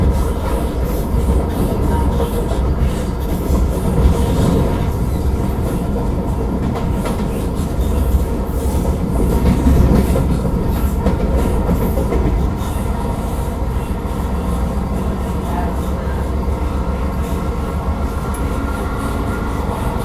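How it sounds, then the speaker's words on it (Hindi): The Patna–Howrah Vande Bharat Express runs at speed with a loud, continuous interior rumble. Rail clatter and faint clickety-clack continue steadily throughout with no talk. "फ्लैट 130 पे वापस से अपनी ट्रेन भाग रही है।"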